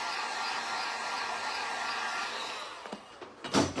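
A hair dryer blows steadily at close range over freshly stenciled paint, its airflow rush broken near the end by a few clattering handling bumps.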